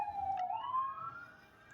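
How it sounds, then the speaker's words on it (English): An emergency vehicle siren wails outside, a single rising and falling tone heard faint and somewhat distant for under two seconds. "I'm sorry about the sirens"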